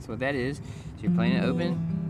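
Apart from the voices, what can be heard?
No distinct noise like a dog, phone or traffic.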